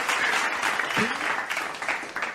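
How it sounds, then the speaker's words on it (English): Short burst of applause during a podcast episode, clapping filling the brief moment at moderate level with a faint low thump partway through. "You can clap it up for that."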